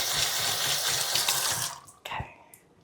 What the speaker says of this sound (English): Okay, I'm going to wash my hands again.